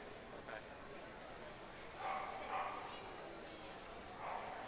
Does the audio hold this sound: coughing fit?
no